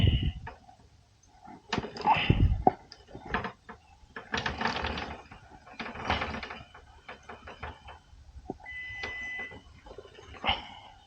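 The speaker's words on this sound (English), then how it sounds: "we gotta tighten the chain" Ratchet clicking away while the chain is tightened on a KTM 790 R motorcycle, with irregular close bursts of metallic pawl ticks and a few heavier knocks, fairly quiet overall.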